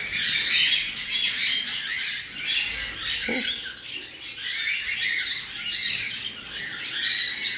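Pet single factor heavy pied fallow bird giving continuous high chirps and squawks, steady and fairly close, with a brief lower call midway, no talk.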